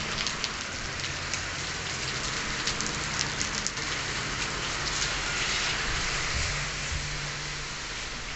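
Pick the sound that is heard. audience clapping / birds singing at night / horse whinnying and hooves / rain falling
rain falling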